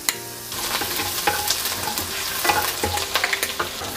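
Chopped green chillies hit hot oil with whole spices in a pan while cooking mutton, setting off a close, steady sizzle and frying crackle with scraping stirring strokes and small pops, no talking.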